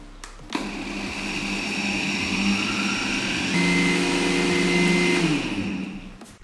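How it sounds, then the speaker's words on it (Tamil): An Agaro blender grinds sugar with a loud, steady whirring roar that starts abruptly, rises slightly in pitch midway, then winds down and stops. "1/2 கப் அளவுக்கு சர்க்கரையை நம்ம பிளெண்டரில் போட்டு அரைச்சி எடுத்துக்கலாம்"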